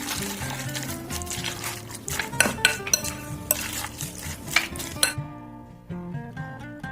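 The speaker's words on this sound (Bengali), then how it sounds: "এটাকে ভালো করে মিশিয়ে নিয়ে একটা ভালো স্মুথ মিক্সচার তৈরি করে নিতে হবে" A spoon stirs a cheese and chicken sandwich filling in a bowl, with repeated clinks and scrapes against the dish and wet mixing sounds, close up, ending with a short musical tone.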